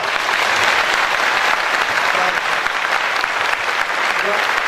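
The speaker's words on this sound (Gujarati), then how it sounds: "બગદાણા સુધી આ તાળીઓનો ગડગડાટ જવો જોઈએ" An audience at an honouring ceremony claps loudly and steadily throughout, a dense continuous round of applause with no pauses.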